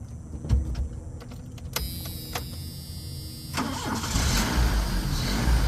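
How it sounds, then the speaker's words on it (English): A 1984 Dodge Rampage with a 2.2 engine and stock exhaust cranks briefly with a few sharp clicks, then catches, and the engine settles into a steady, smooth idle that stays fairly loud and close. "Let me start this thing up."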